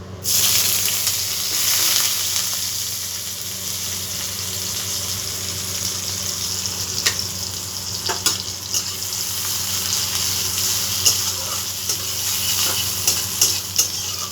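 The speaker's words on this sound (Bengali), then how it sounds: "তেলটা গরম হয়ে গেছে এবার আমি এর মধ্যে পেঁয়াজ কুচিগুলো দিয়ে দেবো" Chopped onions hit hot oil for a snail curry and fry with a loud, steady sizzle, with scattered scrapes and stirring clicks over the continuous crackle and no voices.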